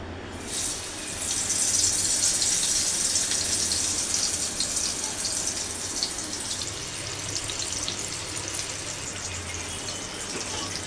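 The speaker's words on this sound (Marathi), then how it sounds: "आता एक एक मासा मी रव्यामध्ये घोळून सोडते." Semolina-coated halwa fish pieces fry in hot oil, giving a steady loud hiss and crackle that swells after the first second and keeps going with no voices.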